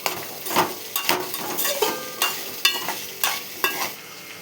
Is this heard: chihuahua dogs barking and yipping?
no